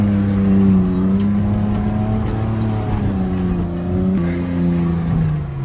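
A beater pickup truck's engine revs steadily up close, a loud droning motor with shifting pitch that rises and falls over several seconds, no voices over it.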